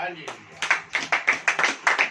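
A church congregation at a sermon claps in a steady rhythm, about eight sharp, evenly spaced claps, close and fairly loud.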